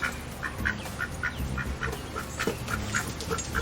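Ducks quack in a yard in a steady run of short, evenly spaced calls, close and fairly loud, with a low rumble of background noise beneath.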